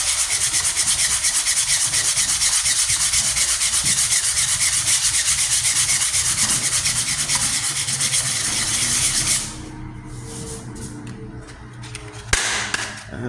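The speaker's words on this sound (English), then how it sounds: "And just using progressive grades of sandpaper." Steady, continuous hand sanding with sandpaper on a rusted 1998 Ford Ranger tailgate during rust repair, a loud close scratchy rubbing that runs for most of the clip before easing off into quieter scraping and a brief knock near the end.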